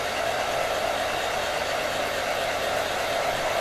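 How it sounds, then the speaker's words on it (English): A hair dryer runs steadily, a constant loud broadband whoosh that holds without pause from start to finish, heard alone with no voices. "back away please from the hairdryer. And I'm drying mine now"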